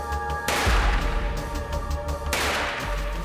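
Gunfire at a police firearms training range, with a loud broadband blast of shots around half a second in and another burst near two and a half seconds, over steady background noise and ringing tones.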